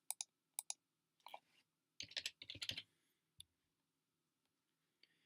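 Text typed into a search field on a computer keyboard, a few sparse close clicks followed by a quick cluster of keystrokes, then a last isolated tap, quiet with no talk.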